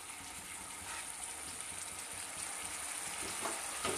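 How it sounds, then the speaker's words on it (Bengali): Spice paste sizzles steadily as it is sautéed and stirred in a pan for a Bengali dish, a continuous soft crackling hiss with a few sharper pops near the end. "এবার মশলাটাকে খুব ভালোভাবে মিশিয়ে দিয়ে কিছুক্ষণ কষিয়ে নিতে হবে"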